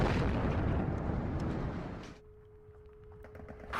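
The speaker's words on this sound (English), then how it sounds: "Let's fire over here in this area and try to wipe out those rockets." MLRS rocket artillery firing and exploding in the video game WARNO, a loud rumbling blast that trails away into a quieter tail before another sharp burst at the end.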